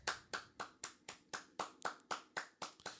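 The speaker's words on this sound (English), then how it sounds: "Let's give her a round of applause." A small group claps in a round of applause on a podcast, a dozen or so sharp, evenly spaced hand claps over about three seconds, close and fairly quiet with no talking.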